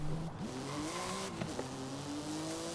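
Porsche GT2 flat-six engine in the Forza Horizon racing game, a steady close engine drone with harmonic pitch that dips and climbs as the revs change, with a brief tyre chirp, moderately loud and without talk.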